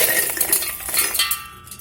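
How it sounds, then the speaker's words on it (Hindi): Spices tumble and clink into a mixer grinder jar in a home kitchen, a brief bright rattle of small pieces against the container, close and alone. "एक मिक्सी का जार लेंगे और इसमें ये सारे मसाले डाल देंगे।"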